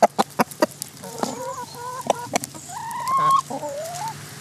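Chickens clucking close by, a run of short sharp clucks followed by longer drawn-out calls, with no talking.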